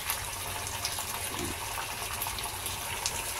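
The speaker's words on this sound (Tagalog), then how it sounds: "Nilagyan ko ng konting tubig yung pinaglagyan ng oyster sauce para hindi sayang" Water is poured into an emptied oyster sauce container as a steady, faint splashing gush that runs on without pause, with no talking.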